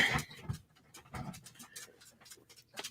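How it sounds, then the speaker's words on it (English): A dog panting close up in quick, breathy bursts with an uneven rhythm, fairly quiet and with no voices over it. "Goofy dog."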